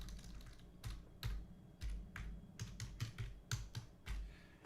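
Keystrokes on a computer keyboard come in quick irregular bursts and single taps at close range, with a low hum underneath and no speech.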